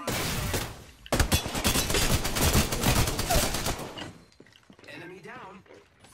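Video-game gunfire rattles in dense rapid bursts alongside shattering and breaking sounds, loud and sustained for several seconds before tapering off, with a voice talking over parts of it.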